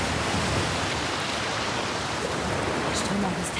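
In The Last of Us Part II, strong water current and waves make a dense, steady roaring wash that holds at an even level throughout, with a voice faintly heard underneath near the end.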